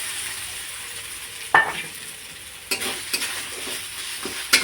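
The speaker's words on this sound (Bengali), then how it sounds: "মটরশুঁটির পেস্ট এইভাবে দিয়ে আমি এই রকম নেড়ে নেব" Green pea paste is stirred in a frying pan over a soft continuous sizzle. A few distinct spatula scrapes and knocks punctuate it, close up and without speech.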